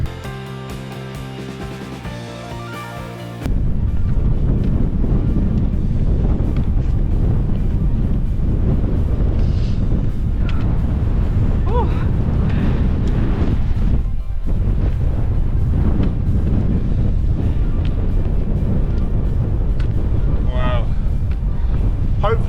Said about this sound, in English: The wind is moving at a rate of knots, isn't it?